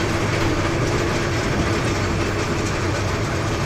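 The Turna Express night train on the Dhaka–Chattogram line runs at Akhaura junction with a steady rumbling hum of carriages and engine, a faint clickety-clack underneath, continuous and close with no talk.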